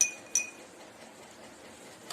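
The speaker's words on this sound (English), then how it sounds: "After pouring the salt, you have to mix it." Salt being stirred into water in a glass: two clear clinks of a spoon against the glass near the start and a fainter one at the end, over quiet background.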